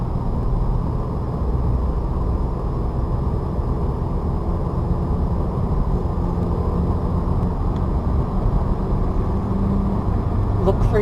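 A manual transmission car rounding a turn and then accelerating toward a highway, with a steady engine and road rumble heard from inside the cabin. The noise stays loud and continuous throughout.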